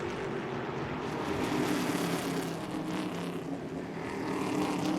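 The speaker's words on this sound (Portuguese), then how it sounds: "Acelerando e acelerando forte o Xande Negrão aí para manter a liderança de prova." A stock car in a 2002 Stock Car race at Brasília accelerates hard, its engine a steady dense roar holding at high revs throughout without pause, loud and close, with no voices.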